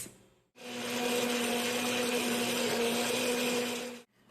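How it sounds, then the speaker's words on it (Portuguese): A kitchen blender runs for about three and a half seconds, switching on abruptly with a loud, steady motor whir and cutting off cleanly, close and alone. "agora é só bater isso aqui tudo no liquidificador"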